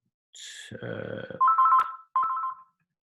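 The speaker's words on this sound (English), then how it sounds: "Right, my phone's ringing." A mobile phone ringtone plays loud and close, a bright descending chime followed by two sustained electronic warbling tones with a short gap between them.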